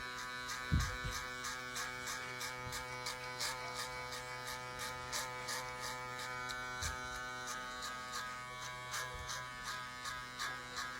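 Hair clippers fitted with a 3 guard, from Supreme Trimmer, buzz steadily while clipping over a comb through a man's taper, with a constant motor drone and short rhythmic pulses as the blade passes through the hair, close up.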